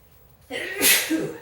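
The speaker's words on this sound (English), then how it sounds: "excuse the sneeze, it's very dusty at work" A single sharp sneeze bursts out after a brief quiet moment, close and loud, with a hissing exhale trailing off.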